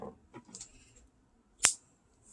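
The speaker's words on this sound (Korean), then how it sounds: "실을 적당량 빼서 잘라주세요." Scissors snip crochet yarn during a card wallet project, giving one sharp, close cut after some soft handling noises, then quiet.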